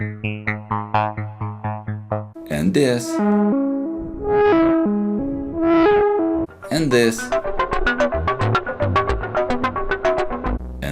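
Paraphonic synthesizer patch with one voice and two differently tuned oscillators, playing plucky staccato notes, swelling sustained tones and bright rapid sequences, with a brief spoken voice between phrases.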